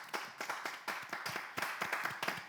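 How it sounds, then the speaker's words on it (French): A live comedy show audience breaks into rhythmic clapping, steady distinct claps repeating evenly, fairly faint and without talk. "Non, des applaudissements"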